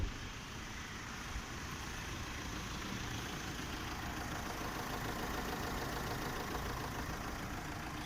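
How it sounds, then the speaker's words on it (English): Tata Harrier SUV with a Fiat diesel engine idling, heard from outside the vehicle: a steady, even mechanical hum with a light clattery texture, continuous and fairly close, with no talking. "on the outside, the engine seems really very refined, even though for a Fiat engine it is definitely not as noiseless as I expected"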